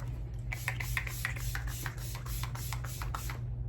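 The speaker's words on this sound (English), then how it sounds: "It's a primer setting spray in one, so I love it." A rapid series of short hissing spritzes from a makeup primer setting spray bottle, about a dozen quick pumps, close by over a low steady hum from a small fan.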